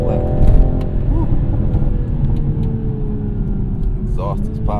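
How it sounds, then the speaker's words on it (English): A Toyota GR Supra's exhaust crackles and pops with sharp bursts over a low engine drone while driving, heard from inside the cabin. "Exhaust is popping. I like it."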